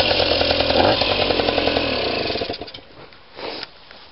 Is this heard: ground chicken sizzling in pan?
no